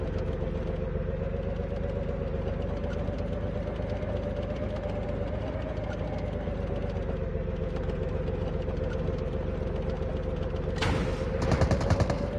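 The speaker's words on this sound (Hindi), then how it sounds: "अरे फायरिंग फायरिंग" Gunfire in Call of Duty Mobile, heard as a steady, droning rattle of rapid shots like an engine hum that runs throughout, with a sharper crackling burst near the end.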